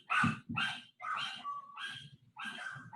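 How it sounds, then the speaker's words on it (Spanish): A dog barks repeatedly in short, loud bursts, a few separate barks with brief gaps, close by, heard in the middle of a fluid mechanics class. "ese perro es suyo"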